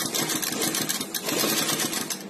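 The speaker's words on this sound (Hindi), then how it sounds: "टेप की बिल्कुल साथ में ऐसे कपड़े को रखेंगे और ऐसे सिलाई लगाएंगे" A sewing machine stitching a straight seam along tape on fabric, running in a fast continuous rapid rhythm at close range for the full couple of seconds.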